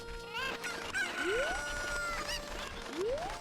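Chickens called cuccos in the Zelda: Ocarina of Time video game cluck and crow in a busy flock, with overlapping squawks and rising cries repeating across the clip at moderate loudness against game music.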